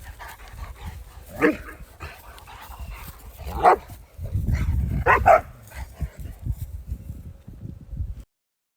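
Several dogs bark in short, spaced outbursts while romping outdoors on a sunny day near a greenhouse, fairly close, with light whimpers and yips between barks.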